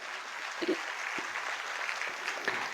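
Applause from an audience at a Marathi talk on education, a steady broadband patter of many hands with a few sharper claps rising through it, moderately loud and sustained with no voices on top.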